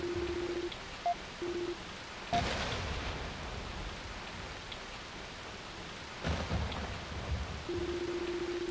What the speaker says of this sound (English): Only the sound of the falling rain and constant thunderclaps could be heard echoing through the darkness